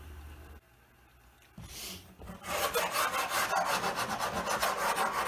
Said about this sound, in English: here I'm filing the face frames, just to help square them up and roughen them up to get a good key with the glue